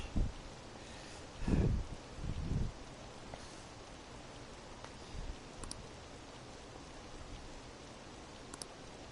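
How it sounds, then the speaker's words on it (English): Steady rain patters in the background of the video game Persona 5 Royal, with a few low muffled thumps early on and occasional faint clicks; no voices. "And it's raining."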